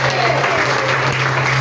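A church congregation applauds, a loud, dense clatter of many hands clapping nearby with a steady low hum underneath.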